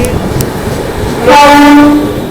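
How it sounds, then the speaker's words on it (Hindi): A lone locomotive without coaches runs on an Indian railway line near a junction. It rumbles close by, then sounds a loud horn blast that holds for about a second. "कोई ट्रेन नहीं थी, लोकोमोटिव थी"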